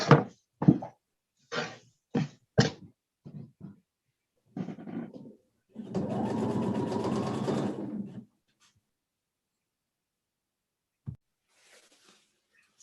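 A sewing machine stitches a seam close to the fabric edge during a dressmaking class: several short thunking bursts and starts, then one steady whirring run of about two seconds, close and clear, followed by quiet.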